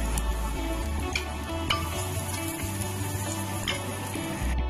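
Garlic frying in cooking oil in a pan at the start of making pad thai, a steady close sizzle with occasional stirring scrapes throughout, no talking.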